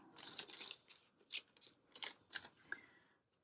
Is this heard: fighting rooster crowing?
no